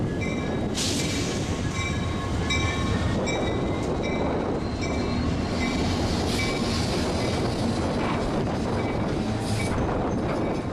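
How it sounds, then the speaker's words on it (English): Train led by Union Pacific locomotive UP 1038, with 5979 on the rear, rolling past steadily with rail noise, wheel squeal and clickety-clack, plus brief high screeches over a continuous low rumble. "UP 1038 is now tied onto the front of the train with 5979 on the rear and is ready to go."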